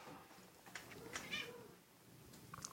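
Cat meowing close by, a short run of plaintive meows, moderately loud over a quiet room.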